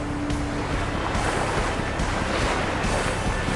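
Sea waves wash onto the shore where a fishing net is pulled in, a steady loud rush of surf with wind buffeting the microphone throughout and no talk.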